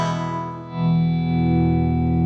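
An electric guitar with DiMarzio pickups rings out in a twangy, Strat-like clean tone with chorus and reverb, a struck chord swelling and sustaining with no talking.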